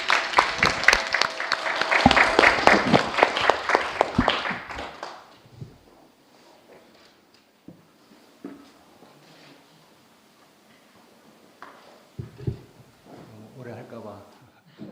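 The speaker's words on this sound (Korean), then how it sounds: "큰 박수 부탁드리겠습니다." A church congregation applauds loudly during a Sunday service, with dense clapping filling roughly the first five seconds before it fades to scattered taps and low room noise.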